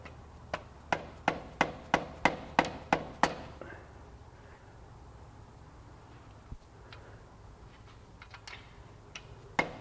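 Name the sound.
hammering grease seal in with socket on Mazda RX8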